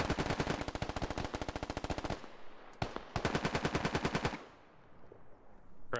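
Gunfire in the video game Squad, rapid automatic bursts of close, loud shots in a steady rhythm, a brief pause with a single crack, then another long burst that fades into quiet.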